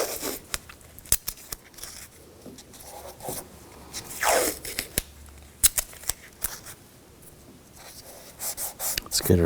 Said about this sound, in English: I'm just going to put some tape